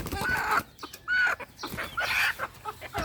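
Native chickens cluck and a rooster crows in short, loud bursts that repeat close by, with bits of distant talk between the calls.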